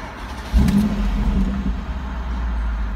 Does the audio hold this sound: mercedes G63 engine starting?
yes